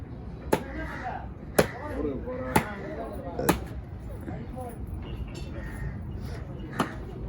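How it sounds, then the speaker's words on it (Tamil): A large knife chops through a huge 41 kg peacock-pattern sea fish at the Kasimedu fish market, landing several loud, sharp thwacks at uneven intervals amid busy market chatter and background noise. "பிரபு சாம மூணு துண்டா போடு"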